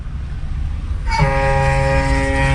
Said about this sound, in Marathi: हॉर्न वाजलेला आहे